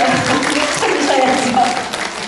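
An audience at a Korean women's policy forum bursts into applause, a dense, steady wash of clapping filling the whole moment, with a speaker's voice faintly audible underneath.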